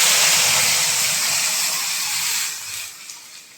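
Dal tempered with fried onion sizzles as a steady, loud hiss that fades slightly toward the end.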